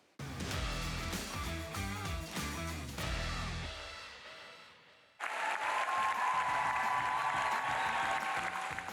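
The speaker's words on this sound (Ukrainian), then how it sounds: "Знаєте, кого зустрічали у столичному палаці мистецтв такими шаленими і гучними оплесками?" Loud applause at a concert in the capital's Palace of Arts erupts suddenly and holds at a strong, steady roar after a stretch of music fades out.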